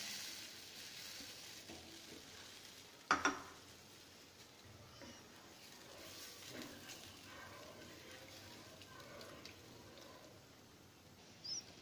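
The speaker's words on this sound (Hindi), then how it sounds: "ये देखिए दूध हमारा बॉयल हो रहा है" Milk boils in a pan for carrot gajrela: a faint, steady bubbling hiss with a sharp metallic clink near the start and another short knock at the end.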